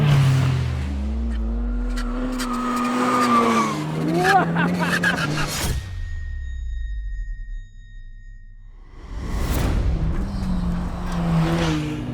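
Ariel Atom 4R sports car with a 400 bhp engine revving hard and blipping through a rapid string of gearbox downshifts, snarling loudly up close before dropping to a brief lull and then roaring again.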